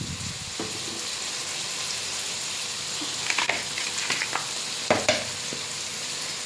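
Ginger garlic paste and curry leaves fry in a hot pan with a steady, close sizzle, broken by a few sharp clatters and scrapes of stirring near the end.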